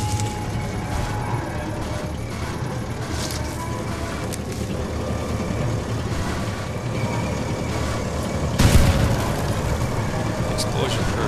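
A single heavy explosion in Sniper Elite 4 co-op gameplay, a tank triggering a booby trap, booms near the end over a steady engine rumble while players talk.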